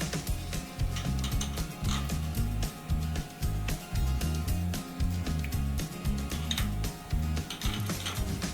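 Wrench ratcheting a tap into a part held in a CNC machine, a rhythmic series of clicking and knocking mechanical strokes repeating about twice a second, close and clear against a steady machine hum.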